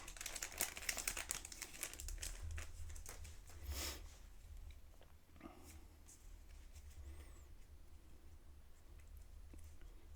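A Yu-Gi-Oh Blue-Eyes White Dragon 25th Anniversary booster pack wrapper is torn open, making close, busy plastic crinkling for the first few seconds that then settles into quieter, sparse rustles.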